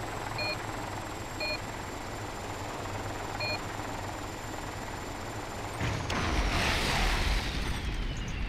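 A helicopter in the video game Operation Flashpoint drones with a steady rotor hum, then a loud burst or rush of noise swells near the end, with no talking.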